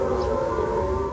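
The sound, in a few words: deafening noise broadcast by North Korean loudspeakers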